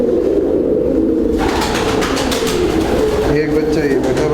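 Many pigeons coo together in a crowded loft, a steady overlapping low burbling that runs without a break under a constant background hiss.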